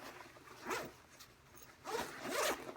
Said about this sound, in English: going into the main compartment, which also has 2 zippers, you can zip down all the way down to the bottom on both sides